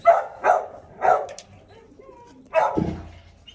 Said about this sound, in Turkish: Köpek havlıyor sürekli.